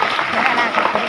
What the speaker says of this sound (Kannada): ಅರೆ ಚಪ್ಪಾಳೆ ಚಿಕ್ಕದಾದ ಚಪ್ಪಾಳೆ